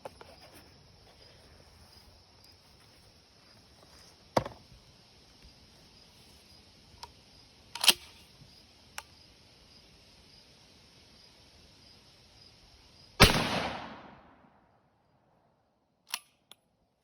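A Remington 7600 rifle fitted with a Skinner Express peep sight is fired while being sighted in outdoors: one loud, sharp report with a lingering, fading tail near the end, a few fainter snaps earlier, and steady insect chirring throughout.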